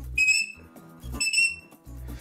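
Two short, shrill shepherd's whistle notes sound in quick succession, separated by low rhythmic thumping in the background.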